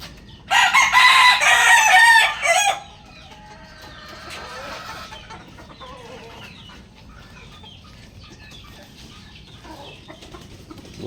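A Talisayan rooster lets out one loud, close crow lasting about two seconds, followed by quiet farmyard background.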